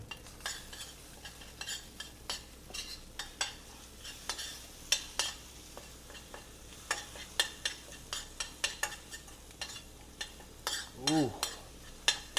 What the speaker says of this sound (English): And now we are gonna mix that shit up.